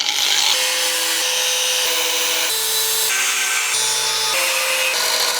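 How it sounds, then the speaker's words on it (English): A hacksaw or grinder cuts a metal piece for a Land Rover Defender to size, producing a continuous loud, harsh rasping with shifting tonal whines in steady back-and-forth strokes, alone without speech. "we can then take the grinder and the hacksaw and trim that piece to size"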